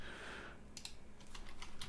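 Quick typing on a computer keyboard during game development, a short run of crisp close keystrokes after a brief hiss, quiet and without speech.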